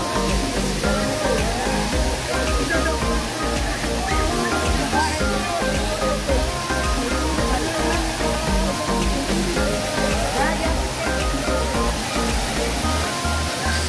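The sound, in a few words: Erawan Falls waterfall, second level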